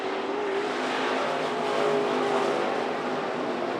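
IMCA modified race cars roaring around the track at Grays Harbor during a heat race, a steady dense engine drone held at constant loudness from start to finish.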